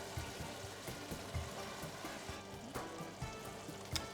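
White wine poured into a hot pan sizzles and hisses steadily at a low level, with faint crackles and no talking.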